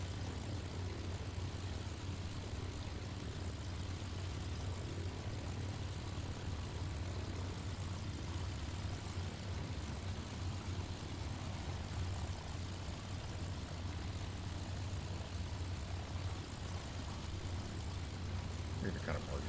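An airplane engine in Microsoft Flight Simulator gives a continuous, even drone with a heavy low hum that holds steady for the whole stretch and never fades or changes.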